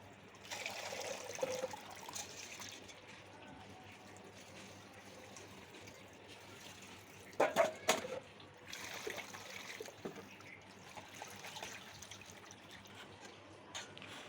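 Water trickles and splashes steadily at low volume while small fish are washed, with a brief louder burst of splashing midway, no voices present.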